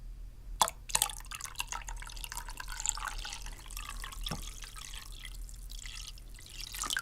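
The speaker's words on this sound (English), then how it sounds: "So I'm going to go ahead and pour the cold water in now." Cold water is poured into a bowl while making a gelatin brain mold, a soft, continuous trickle with a few sharp drips and taps near the start, close and quiet.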